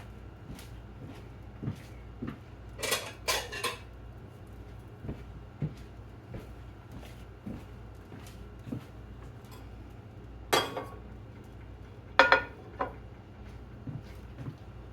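In a home kitchen, a plate is taken out of a cupboard: scattered soft knocks and clicks, with a few brighter clinks of dishes, all fairly quiet over a steady low background hum.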